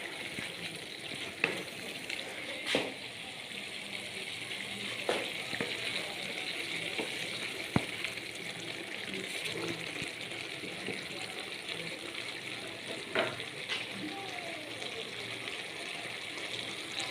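Chilli chicken fries with curry leaves in a pan, giving a steady, close sizzle with occasional soft clicks and stirring sounds throughout.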